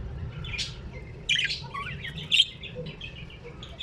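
Pet birds, a breeding pair in a cage, chirp and tweet in short bright bursts over a low background hum, fairly near and moderately quiet, with no talk.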